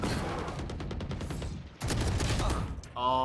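Automatic gunfire in the Valorant video game shooting through a wall during a collegiate esports match, a fast rattling burst, a short gap, then another sustained spray, moderately quiet in the mix.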